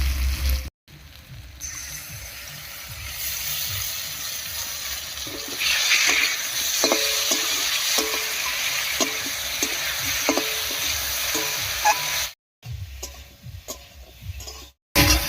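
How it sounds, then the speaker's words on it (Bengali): Potatoes fry with dried red chili paste in a hot pan, a steady sizzle broken by repeated scraping and stirring clicks of a spatula, close and continuous with brief pauses. "আলুগুলোকে একটু ভাজা ভাজা করে নেব"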